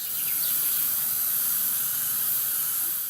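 PlastiKote spray paint primer hisses steadily from the can onto an Ikea step stool, a continuous close airy spray with no pauses.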